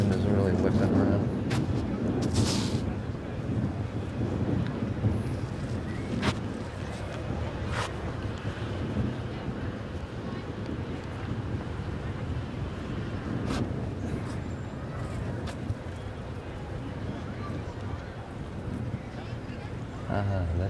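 Strong wind gusting across an exposed spot on Block Island, a steady rushing roar with buffeting against the microphone that lasts throughout, with a few faint sharper knocks mixed in.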